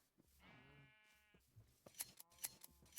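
Sheep bleat several times in a video game, clear wavering cries up close, with sharp clicks and taps between them and quiet background otherwise.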